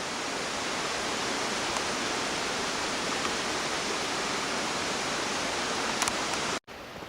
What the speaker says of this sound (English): There is a ton of water coming out of this right now from the snowmelt.